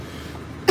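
A single short, sharp cough bursts out at the very end, after a stretch of near silence, close to the microphone.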